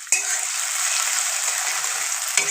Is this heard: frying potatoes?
yes